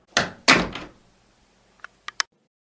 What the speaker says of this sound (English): This time, Bear shut the door very firmly and locked it tight.